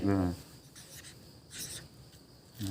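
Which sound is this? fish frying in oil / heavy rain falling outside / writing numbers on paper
writing numbers on paper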